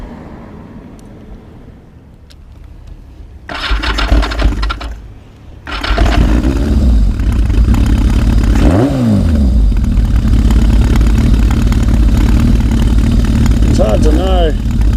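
Yamaha XS1100 cafe racer motorcycle engine running loud and close, with a steady idle broken by a quick rev that sweeps up and back down mid-clip, then settling into a sustained rumble.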